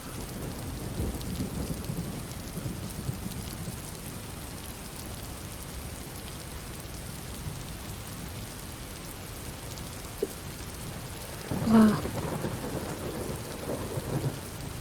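Steady rain falls in a thunderstorm, a constant soft hiss of drops with low rumbling thunder throughout and a brief sharper crack near the end, no voices.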